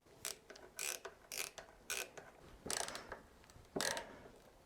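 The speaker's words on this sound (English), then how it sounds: "So I recorded tapping in and unscrewing each of these screws in a 2x4." A hand screwdriver drives and backs out screws in a 2x4, giving six short separate bursts of ratcheting clicks and grinding turns, close and quiet, spaced by brief pauses with no speech.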